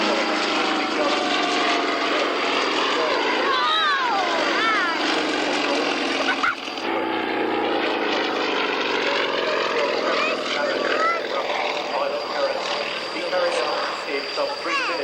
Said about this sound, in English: Complete tumbling, rolling, flicking aircraft.